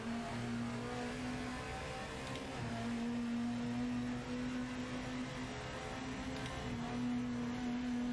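Race car engine in the Project Motor Racing video game, a steady droning hum that holds near-constant pitch throughout, with a brief dip partway, loud and continuous without voices.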